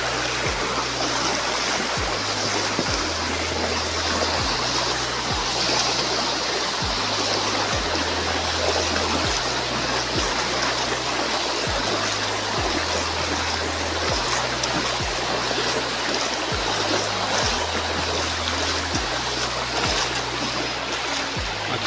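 Flood water rushes outside through a village in Odisha, a constant loud broadband roar of flowing water with no pauses, accompanied by a faint low repeating hum underneath.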